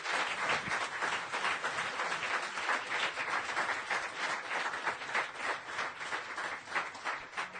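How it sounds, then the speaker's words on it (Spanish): Congregation in a church applauding steadily, a dense, sustained wash of clapping at even strength throughout with no talking over it. "Dele el aplauso al Señor."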